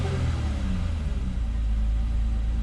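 A 2003 car engine idles smoothly, a low steady rumble close by with slight irregular roughness early on, continuous and with no talking over it.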